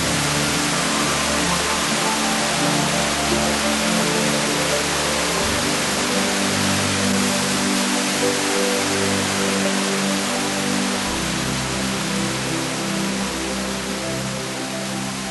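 Elephant Falls waterfall near Shillong, Meghalaya, roars as a steady, dense wash of falling water, loud and unbroken throughout with no voices.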